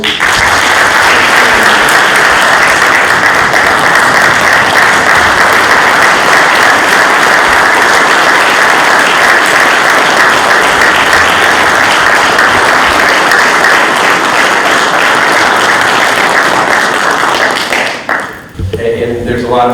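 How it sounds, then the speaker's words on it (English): An audience at the Warren County Crime Victim Memorial Ceremony 2023 applauds loudly and steadily for nearly twenty seconds, then the clapping thins out and stops. "I want to have a warm applause for this."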